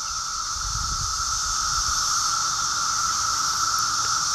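Dense chorus of 17-year periodical cicadas, a steady high-pitched whirring drone with a shrill upper band and a lower hum, constant and enveloping throughout, with faint low rumble underneath and no talk.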